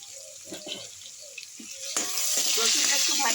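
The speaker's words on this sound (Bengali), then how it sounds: "রসুনটা একটু ভাজা ভাজা হয়ে যাবে।" Crushed garlic with black cumin sizzles in a pan of oil for lentils with jute greens, a soft crackle at first that swells into a louder, steady hiss with a few stirring clatters, no talk.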